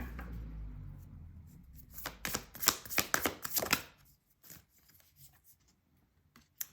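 Tarot cards are riffled and shuffled in a quick burst of close crisp flutters, followed by a few soft taps in a quiet room.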